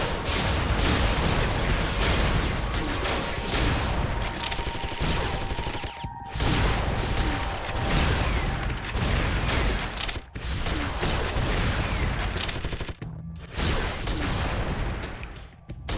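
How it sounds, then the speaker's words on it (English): Sustained machine gun fire and explosive blasts from the Madoka Magica video game on Wii U: dense, loud volleys rattle almost continuously, broken by a few brief gaps. "Machine gun!"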